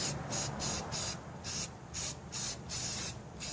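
Rust-Oleum white spray paint hisses from a big can in six or seven short bursts with brief pauses between, close and fairly quiet, used on wheels of a 1975 Vanguard Citicar.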